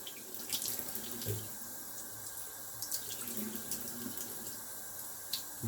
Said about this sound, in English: I just kind of lean over the sink a little bit, and I'll just kind of splash it down with some cold water